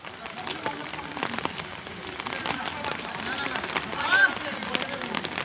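Rain falls during an outdoor cricket match, a light, scattered patter of drops at a moderate level, with faint background voices under it.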